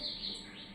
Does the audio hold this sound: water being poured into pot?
no